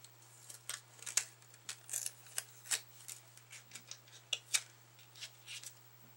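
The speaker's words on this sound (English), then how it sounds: "It says peel and stick base pad. So I'm going to peel this off." Backing is peeled off a peel-and-stick base pad for a card, a quiet, close series of short crinkly tearing and paper rustles with no talk.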